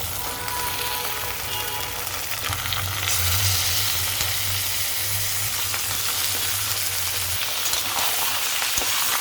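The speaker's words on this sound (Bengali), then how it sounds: "পেঁয়াজটা ভাজা হয়ে গেছে, মাটনগুলো দিয়ে দেবো" Mutton sizzles loudly as it goes into a hot pan with fried onions, a steady crackling hiss throughout, with a low rumble of stirring partway through.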